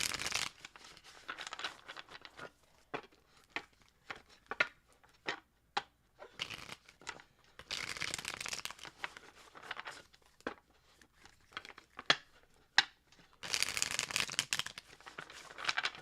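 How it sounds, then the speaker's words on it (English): Tarot cards being shuffled by hand, a run of quick riffling bursts and soft papery slaps in an irregular rhythm, close and fairly quiet with no talk. "Last shuffle for Scorpios for July 2023."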